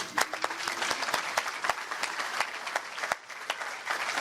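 An audience at a participants' meeting breaks into applause, a steady stream of many hands clapping with sharp individual claps standing out near the front, moderately loud and sustained throughout.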